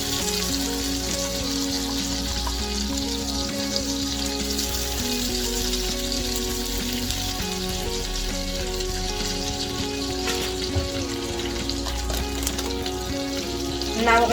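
Melted sugar and a tablespoon of butter being mixed together in a hot pan for butterscotch, a steady close sizzle with faint stirring running for several seconds under a background musical hum.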